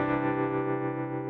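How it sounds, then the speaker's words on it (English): A sustained electric chord from a Fender Acoustasonic Strat passes through a stock tremolo plugin in Studio One, ringing bright and slightly distorted with a faint pulsing as it slowly decays. "I'm going to use some tremolo in Studio One"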